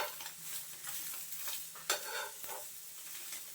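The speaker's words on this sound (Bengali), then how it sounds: "যাতে করে চিজটা ভেতরে দিলাম গলে যায়, তার জন্য একবার এপিট ওপিট করে সেঁকে নেব" An egg and mozzarella cheese paratha sizzles softly as it toasts in a pan, with a steady low fry punctuated by a sharper clatter when it is flipped.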